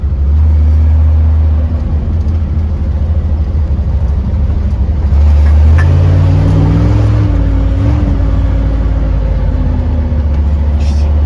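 On a road trip through the California foothills, a car engine drones loudly inside the cabin, then revs up with a rising pitch as it accelerates through gears before settling back into a steady hum.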